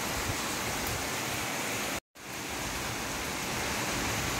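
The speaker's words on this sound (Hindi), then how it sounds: "प्रबल प्रबल वर्षा छाटुची" Heavy rain pours steadily as a dense, loud, continuous hiss that cuts out for a split second midway and then resumes.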